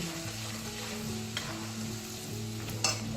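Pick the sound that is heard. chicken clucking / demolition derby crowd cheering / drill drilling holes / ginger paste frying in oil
ginger paste frying in oil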